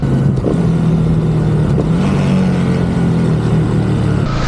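A Bajaj NS 200 motorcycle engine hums loud and close throughout, its pitch dipping and recovering briefly during a rev-matched gear shift.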